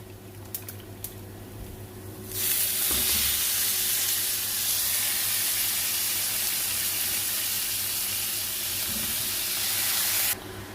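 Cauliflower and potato hit hot oil in a pan with a sudden loud, steady broadband sizzle that holds for about eight seconds, then cuts off, with a faint low hum underneath.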